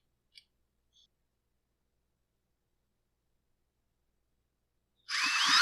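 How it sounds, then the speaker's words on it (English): A power drill spins a Troy-Bilt string trimmer engine for a spark test, starting abruptly at the very end with a loud whirring buzz after a few faint clicks and near silence. "Now we should be able to do our test again with the drill and see if we have spark."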